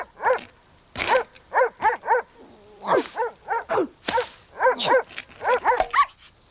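A dog barks insistently in an animated cartoon, a rapid string of about twenty sharp, evenly pitched barks in short bursts, close and clear, with brief voices in between.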